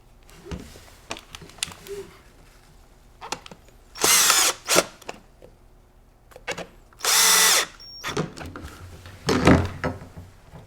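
Power driver whirring in two loud, sustained bursts as it drives Phillips head screws into the recoil pad of a Benelli Montefeltro shotgun, with shorter tool noises and handling clicks between them, close up and with no talk.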